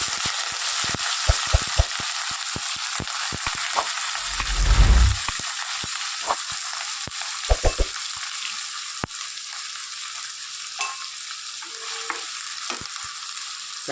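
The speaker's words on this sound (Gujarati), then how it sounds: "એના લસણ અને લીલા મરચાં અંદર આપણે કોબી નાખી દઈએ." Cabbage dropped into hot oil with garlic and green chilies sets off a loud sizzling burst, then steady frying hiss with scattered sharp clinks and scrapes of a stirring utensil against the pan.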